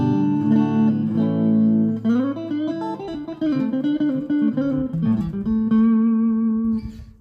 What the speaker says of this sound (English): And then here is the neck pickup.